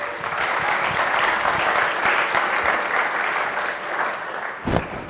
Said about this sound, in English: let's have a quick round of applause as I say their names welcoming back